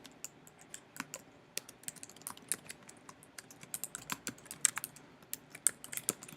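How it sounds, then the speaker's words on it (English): Someone types an email address on a computer keyboard, producing a quick, irregular run of light key clicks at close range with no voices. "So I'm going to go ahead and type in my email address."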